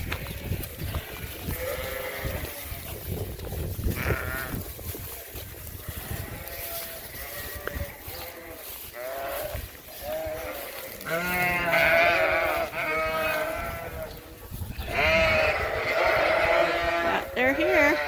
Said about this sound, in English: So now we're trying to move the rams over.